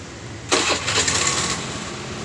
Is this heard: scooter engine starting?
yes